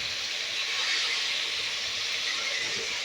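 Fish frying in a pan in a home kitchen, a steady broadband hiss of hot oil that stays even and fairly loud throughout with no talking.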